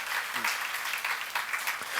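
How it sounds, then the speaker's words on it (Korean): An audience at a church seminar claps together in sustained, dense applause, a steady, fairly close crackle of many hands with a voice partly under it. "믿으시면 박수로 하세요"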